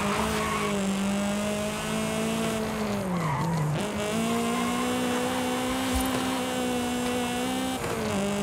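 Toyota AE86 in Forza Horizon 5 at full throttle, with a loud, steady engine drone holding high revs and a brief dip around a shift, plus tyre squeal from drifting, and no talking.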